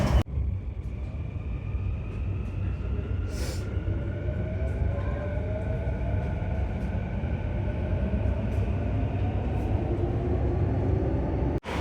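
Delhi Metro train arriving at New Delhi station, a steady loud rumble and rail drone with rising and falling whine tones running throughout, close by and without talk.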